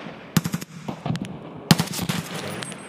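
Gunfire on the Customs map in the shooter game Escape from Tarkov: two bursts of rapid automatic shots, each a sharp cluster of cracks, with scattered quieter reports and echoes between them.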